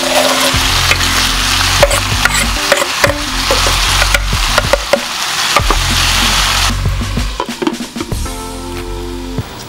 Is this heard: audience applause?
no